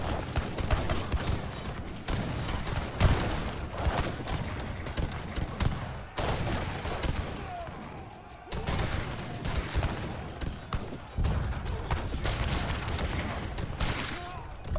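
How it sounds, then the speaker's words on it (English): An artillery battle in the strategy game Age of Empires III: dense, continuous volleys of cannon and musket fire roll on for the whole stretch, with heavy thuds and crackling bursts that briefly ease about two-thirds of the way through. "Oh, there's a artillery fight"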